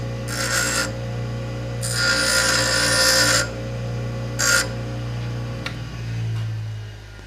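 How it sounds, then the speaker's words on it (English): Grinding the bolt heads off a swivel mount caster, with bursts of harsh abrasive grinding against metal separated by pauses, over a steady motor hum, close and moderately loud, with no talking. "We got a swivel mount caster here, and we're just grinding the bolts off."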